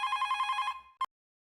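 A landline telephone bell in a family home scene from the Hindi sitcom Taarak Mehta Ka Ooltah Chashmah rings in a rapid repeated trill for under a second, followed by one short separate burst, then silence; no one speaks.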